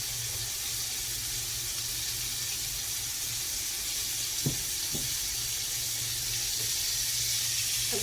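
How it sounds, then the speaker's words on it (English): Chicken sizzling in hot frying oil, giving a steady broad hiss with a few faint pops, continuous and close. "All right, it's frying nicely."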